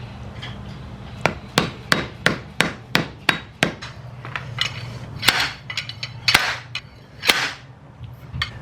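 A wheel hub is hammered back into its bearing in a Mazda Miata rear knuckle: sharp, loud metallic blows, about a dozen in a fairly regular run, then slower spaced strikes, close up with no talking.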